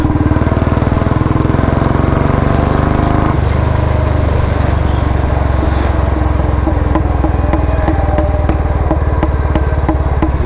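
A Royal Enfield Bullet 350 BS4 single-cylinder motorcycle runs close by with a loud, constant thumping exhaust rumble that shifts its note about a third of the way through and keeps going without pause.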